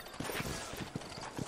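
Horse hooves clip-clop at a walking pace in a western-style video game set in the New Austin frontier, a few soft, close, regular knocks.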